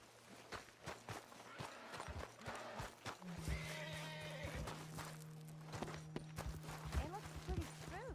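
Spooked horses in the Western video game Red Dead Redemption: several hoof clip-clops and snorts scattered across the scene, with a steady hum running underneath and someone speaking calmly over them.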